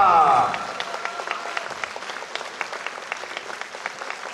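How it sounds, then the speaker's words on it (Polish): Audience applause at a ballroom dance competition semi-final, the Polish Cup 2023, begins as a loud announcer's voice cuts off, then continues as steady scattered clapping from the crowd. "Wielkie brawa!"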